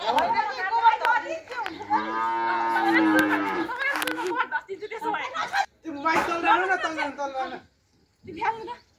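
A cow lows in a long, drawn-out moo, fairly close and loud, with people chattering and laughing around it before and after.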